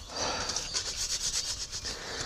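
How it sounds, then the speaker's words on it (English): Cold green casting sand packed by hand over a pattern for aluminium sand casting, a close, soft gritty rubbing and pressing in short repeated strokes, with no talk. "Cover it with facing sand."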